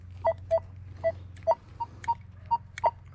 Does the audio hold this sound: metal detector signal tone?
yes